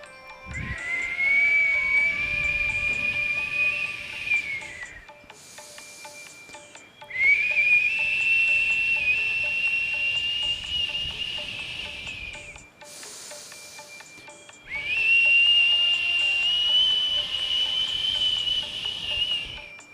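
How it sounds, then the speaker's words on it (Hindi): Breath is pushed out through pursed lips in a whistling exhale during pranayama breathing practice: three long, steady, high whistles of about five seconds each, separated by short quiet gaps for inhaling through the nose. "अब हम सीटी बजाते हुए, सीटी की आवाज़ निकालते हुए 10 बार इसी प्रयोग को करेंगे।"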